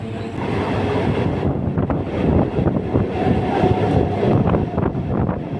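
Passenger train pulling out of a station on a single-track line between Old Delhi and Shamli, with steady loud rumble, wheel and carriage rattle and some wind buffeting across the whole stretch, no talking.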